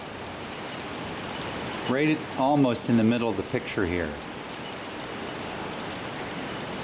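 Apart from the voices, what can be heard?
rain falling over the ocean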